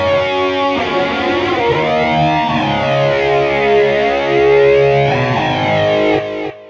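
Distorted electric guitar runs through an 80s-style flanger on a BOSS eBand JS-10, sustained chords swept by a loud, jet-like whooshing modulation that rises and falls continuously, ending abruptly with no voices.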